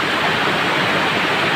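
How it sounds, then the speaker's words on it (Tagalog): Heavy rain pouring down in a dense, steady roar, loud and continuous with no voices. "malakas nga ho ang ulan"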